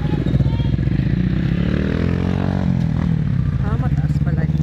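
Motorcycle engine idling and revving at close range with a steady rumble throughout, people talking over it, on the way to the Cavinti underground river and cave complex.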